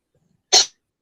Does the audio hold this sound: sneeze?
yes